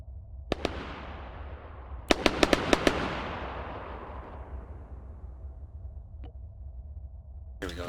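Gunfire from a World War II weapon in the Arma 3 IFA3 mod: a couple of sharp shots, then a quick string of five or six cracks echoing into a long fading rumble, followed by a lone later shot.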